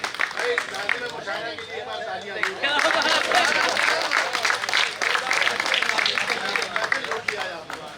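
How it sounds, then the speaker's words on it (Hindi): Loud applause at a mushaira poetry gathering at a literature festival, welcoming a senior poet to the mic; dense crowd clapping builds and surges louder midway, mixed with murmuring voices and chatter throughout. "ज़ोरदार तालियों के साथ माइक पर इस्तकबाल कीजिए जनाब फ़हमी बदायूनी साहब"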